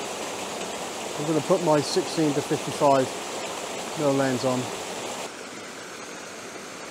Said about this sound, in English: hopefully you can hear me above the noise of the waterfall